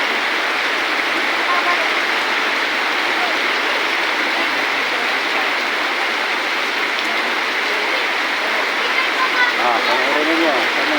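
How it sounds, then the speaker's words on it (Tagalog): Rain falls hard and constantly, a thick close wash of drumming drops on surfaces near a house where people take shelter, steady throughout with faint voices buried beneath it. "Silong dito kasi lakas ng ulan."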